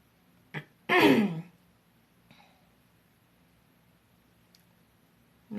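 A single throat-clearing rasp, close and fairly loud, preceded by a brief sniff and followed by quiet with faint small noises.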